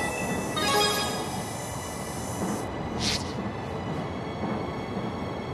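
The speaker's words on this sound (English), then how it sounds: "Luger, what are you doing on this train?" Train carriage from the video game Tales of Xillia 2 riding along, a steady rumbling rail-car drone with a brief high screech or whistle near the start and another short hiss midway, heard alone with no talk.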